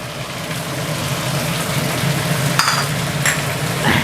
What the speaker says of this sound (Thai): เสร็จแล้วเราก็ผัด ให้พริกกับใบโหระพาสุกก่อนนะครับ